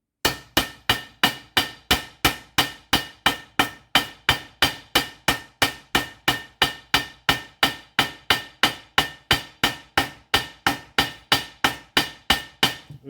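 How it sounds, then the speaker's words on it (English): Steady, rapid metallic hammer blows on a tube over a metal bar for a wood-fired oven, dozens in a row at an even rhythm, close and loud with a ringing edge, no voices. "so I can hammer it over the top of, and I won't get so much bounce"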